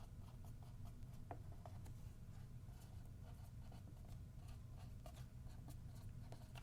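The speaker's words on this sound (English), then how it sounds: "I'm going to write this out." Pen or pencil writing out a calculus derivative by hand, a steady soft scratching with small taps, continuous and close over a low room hum, no talking.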